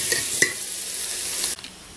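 Dried coriander and ginger paste hit a hot pan with chicken, a sharp clatter as they go in and then an even sizzle that drops off abruptly toward the end.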